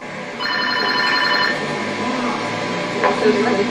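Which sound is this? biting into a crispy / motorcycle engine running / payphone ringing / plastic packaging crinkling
payphone ringing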